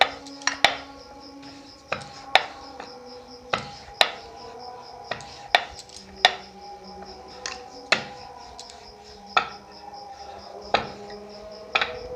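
A knife cuts rolled-out flour dough for cauliflower samosas on a board, making a steady series of sharp taps roughly a second apart, close and clear with faint handling noises between strokes.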